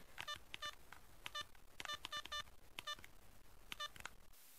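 Telephone keypad tones dial a number, a quick run of distinct DTMF beeps in irregular groups with short pauses, close and clear against a faint background hiss.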